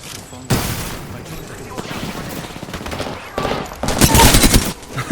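Gunfire in the battle royale game Apex Legends: loud, close bursts of rapid automatic weapon fire that swell and fade in clusters, with a heavier stretch of shooting near the end.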